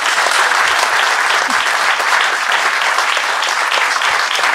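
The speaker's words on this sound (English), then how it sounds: "Ladies and gentlemen, can we have a round of applause for Mr." Loud, sustained applause from a live audience at a stage show, a thick wall of clapping that stays even and full throughout with no voices over it.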